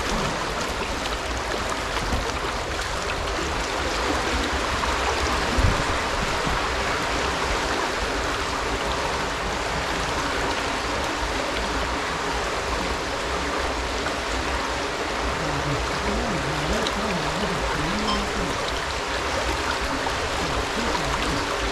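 A steady, rushing stream of floodwater overflowing its banks flows continuously, a dense even wash of water sound with no voices, constant in level throughout.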